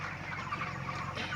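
Chickens cluck in a crowded poultry farm shed, a faint, dense chorus of many birds with steady background hum and no talk.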